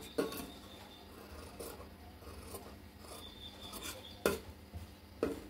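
Scissors cut through blouse sleeve fabric, with a few crisp, close snips and soft rasping of cloth between them, quiet and without talk.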